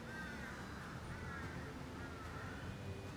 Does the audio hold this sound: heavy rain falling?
no